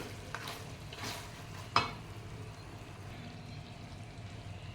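Pieces of meat coated in ginger-garlic paste are stirred in hot oil, giving a soft steady sizzle with a few scraping stirs and one sharper clink from the utensil.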